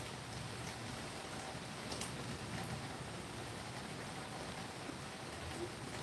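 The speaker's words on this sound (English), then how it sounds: "It is raining outside." Steady rain falls outdoors as a soft, even broadband hiss that holds at the same low level throughout, with no voices over it.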